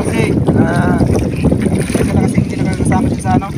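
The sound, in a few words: strong wind at sea on a fishing boat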